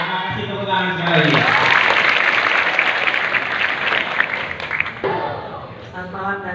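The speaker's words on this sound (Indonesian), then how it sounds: "Terima kasih, tepuk tangan sekali." Audience applause fills a hall at an evening community event, a sustained burst of clapping that swells loudly for several seconds, with a voice talking over it at the start and end.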